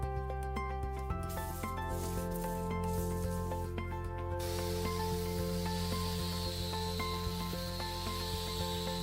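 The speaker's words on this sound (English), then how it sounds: "I'm utilizing an angle grinder equipped with a multi-stage sanding system" Angle grinder fitted with a sanding disc grinding rust and pitting off an old steel cleaver blade, a steady loud abrasive whine and hiss that carries through the whole stretch.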